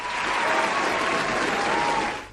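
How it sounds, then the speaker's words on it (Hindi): Studio audience applause on an Indian radio show, a steady dense wash of many hands clapping throughout, loud and continuous, fading slightly at the end. "तो अब तो तालियां बनती हैं भाई।"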